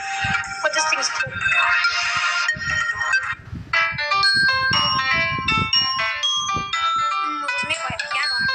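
A Samsung Galaxy A14 ringtone plays loud and close, a bright melodic sequence of chiming synth notes in quick rhythmic phrases, with a short pause midway before the tune resumes.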